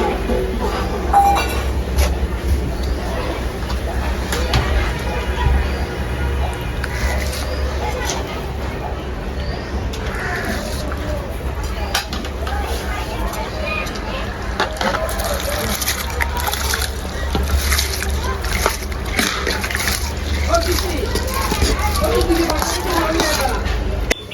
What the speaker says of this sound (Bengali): রাইস দিয়ে দিচ্ছি